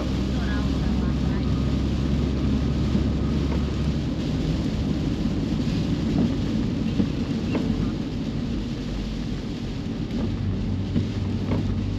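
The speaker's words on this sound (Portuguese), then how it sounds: "que chuvinha abençoada, né?" Steady rain shower pours outdoors in a continuous broadband wash with a low rumble, loud and unbroken throughout.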